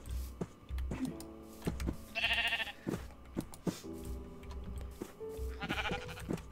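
Sheep in Minecraft bleat repeatedly, several distinct nasal baas spaced a second or two apart at moderate volume, mixed with soft clicking and gentle game background sounds.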